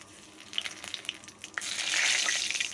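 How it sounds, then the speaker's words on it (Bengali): Oil goes into a kadai already used for frying potatoes, with a few light taps and drips, then a bright, steady sizzle swelling up and holding close by. "কড়াইয়ের মধ্যে আমি আবারও তেল দিয়ে দিচ্ছি"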